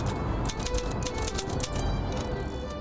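A street poet in Chattanooga types rapidly on a typewriter, producing a dense run of clattering key strikes. The clatter is moderately loud and close over steady outdoor background noise, with no voices.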